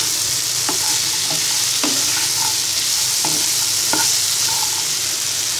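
Cut, washed potatoes drop into a pan of frying boiled chicken for a Bangladeshi shingara filling, a loud continuous sizzle with repeated spatula scrapes and knocks.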